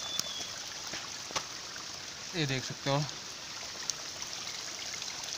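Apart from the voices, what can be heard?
water stream flowing in forest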